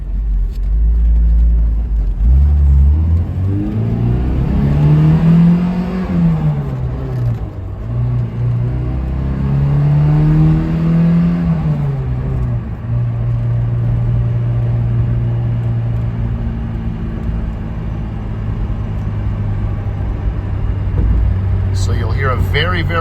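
The 2-liter engine of a 1991 Alfa Romeo Spider drones steadily while driving, revving up and easing off in two swells before settling into a constant cruising hum, with a person talking over it.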